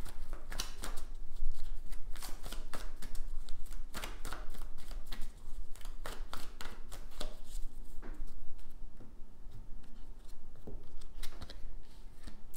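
Oracle cards being shuffled and drawn by hand, a steady run of close, crisp papery flicks and slaps with no talking.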